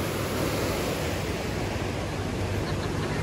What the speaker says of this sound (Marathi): वरून धबधबे वाहत आहेत.